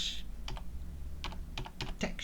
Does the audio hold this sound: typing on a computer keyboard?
yes